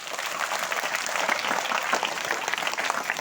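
Schoolchildren and guests applaud together at a primary school event with the Rotary club, producing a continuous wash of clapping at a moderate, steady level.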